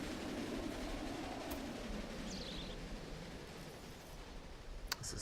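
A freight train rolls along in Railway Empire, a steady low rumble with faint wheel noise and a brief high squeal partway through, running alone without talk.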